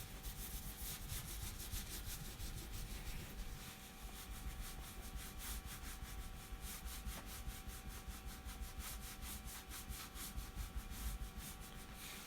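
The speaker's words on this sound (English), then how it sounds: "I'm going to color just one little section here" A brown crayon colouring a small patch of paper, making a continuous close, scratchy rubbing that keeps a steady back-and-forth texture throughout.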